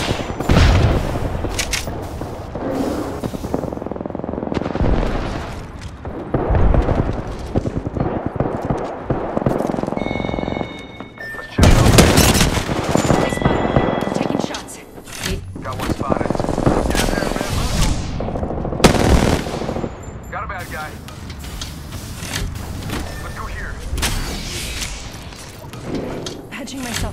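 Gunfire in Apex Legends: dense bursts of automatic weapons and booming shots, loud and close, coming in waves with brief lulls, while voices talk over the fighting.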